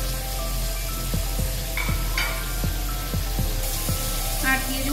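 Capsicum and green chillies frying lightly in a pan for restaurant-style chilli paneer, a steady sizzle with a regular series of spatula taps and scrapes, close and moderately loud.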